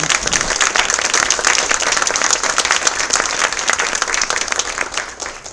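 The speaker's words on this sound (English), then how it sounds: "you can clap." Dense, loud audience applause at the close of an arts talk, with a continuous crowd clapping that stays strong and only tapers slightly at the end.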